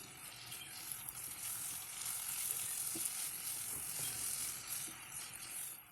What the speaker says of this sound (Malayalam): മസാലയെല്ലാം ചിക്കനിൽ നല്ലതുപോലെ പിടിക്കാനായി 3 മിനിറ്റ് കൂടി ഇതുപോലെ വഴറ്റി കൊടുക്കണം